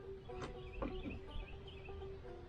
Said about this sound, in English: That bird singing right there, can y'all hear him?